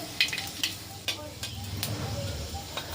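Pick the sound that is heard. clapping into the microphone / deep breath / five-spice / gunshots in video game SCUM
five-spice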